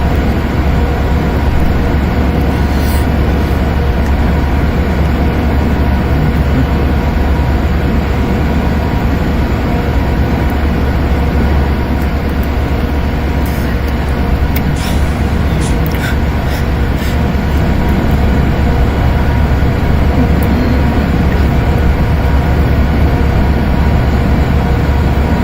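UP 3985 hauls a light passenger train down the grade over Tehachapi Pass in the Open Rails simulator, giving a constant loud rumbling drone with faint higher clanks scattered through.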